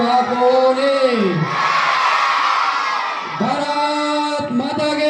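A crowd at a village education event welcomes a guru with loud cheering and whooping, swelling in the middle and then fading as shouted voices break back in.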